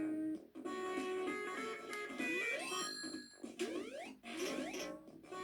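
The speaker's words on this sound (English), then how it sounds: "Sonic should just not sound like this." Sonic video game audio played on an aftermarket Sega console, harsh tinny chiptune music and sound effects with rising sweeps and bell-like pings, faint and distorted, with no talking.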